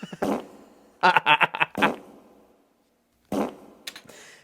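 A series of recorded farts with added reverb, short wet bursts and a rapid sputtering run with ringing tails. Pauses separate the bursts before a last cluster at the end. No one talks.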